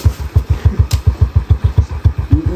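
A motorcycle engine chugs close by with a steady, rapid low pulsing throb that holds at a constant level through the whole stretch, with no voices over it.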